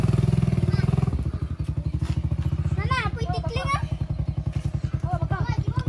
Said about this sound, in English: Okay, he's driving his uncle's motorbike.